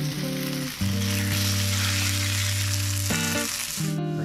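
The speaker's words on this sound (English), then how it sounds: "Got our oil heated up. So we're gonna go ahead and add our fish." A sea trout fillet sizzles loudly in heated oil, a dense continuous crackle close up, with a steady tonal hum running underneath and a brief shift near the end.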